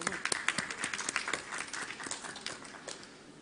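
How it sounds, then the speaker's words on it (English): Scattered audience applause at a dermatology association's annual conference in Telangana, a broad crackle of many hands with a few sharper claps standing out, steady and moderately loud before tapering slightly. "Let us give a big round of applause to GMC Alumni Association."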